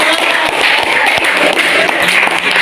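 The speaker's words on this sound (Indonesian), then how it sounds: "Oke, terima kasih, tepuk tangan." Applause from a classroom of students fills the space, a steady, dense patter of many hands clapping close by with no break, with some sharper individual claps standing out.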